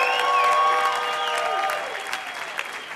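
A crowd at a stage event applauds and cheers for a speaker being welcomed on, a dense wash of clapping that starts loud and gradually thins out over three seconds.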